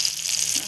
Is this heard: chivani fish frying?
yes